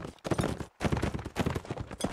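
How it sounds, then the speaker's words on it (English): Horse hooves galloping in the video game Mount & Blade: Warband, a dense, loud run of rapid beats broken by a brief pause partway through. "We gotta get this horse to stop."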